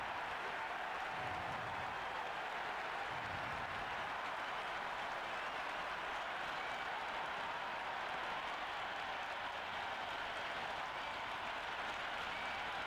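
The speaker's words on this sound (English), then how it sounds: "this crowd is already making it hard for me to be heard" Stadium crowd noise from the cricket video game Cricket 26 at a New Zealand versus Sri Lanka World Cup match: a dense, steady roar of cheering and applause that holds without a break throughout, with no clear voices.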